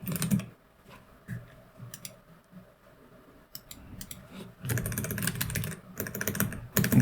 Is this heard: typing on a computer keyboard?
yes